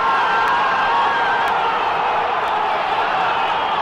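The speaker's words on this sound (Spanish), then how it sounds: "Mira cómo gritó la gente." A large stadium crowd roars and shouts in sustained cheering at an America vs Pumas football match, a dense continuous wash of voices filling the whole stretch.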